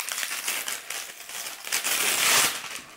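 A plastic candy bag being crinkled and handled up close, producing irregular rustling bursts over a few seconds with no talking.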